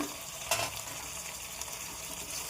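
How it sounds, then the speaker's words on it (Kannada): Two small chopped tomatoes fry in a pan until soft, as part of a tamarind chitranna dish, giving a soft, steady sizzle with one brief clatter near the start. "ಅದು ಹಾಕ್ಕೊಂಡು ಟೊಮೆಟೊ ಮೆತ್ತಗಾಗೋವರೆಗೂ ಸ್ವಲ್ಪ ಫ್ರೈ ಮಾಡ್ಕೊಳ್ಳೋಣ"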